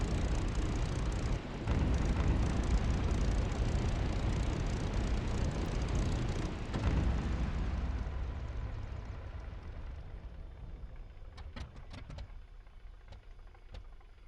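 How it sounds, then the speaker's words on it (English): The piston engine of a P-51D in the DCS flight simulator rumbles loudly, then winds down and fades to quiet as the engine shuts off, followed by a few faint clicks. "Set the fuel mixture to idle cutoff to shut down the engine."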